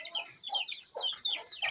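A hen clucks repeatedly in short, close bursts, with a few higher chirps mixed in and brief pauses between calls.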